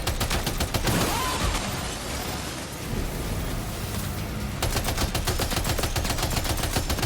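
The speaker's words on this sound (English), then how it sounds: "Oh, who's shooting at me?" Dense gunfire in the video game Death Stranding 2, a sustained rattling barrage of rapid shots throughout with rumbling noise beneath, loud and close, with no talking.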